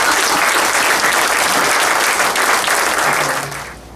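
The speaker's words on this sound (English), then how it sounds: "let's give them a round of applause" Loud, sustained audience applause for Vietnamese representatives at a Vietnam Veterans Day gathering, a dense wash of many hands clapping that fades slightly near the end.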